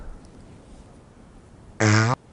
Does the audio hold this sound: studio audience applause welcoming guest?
no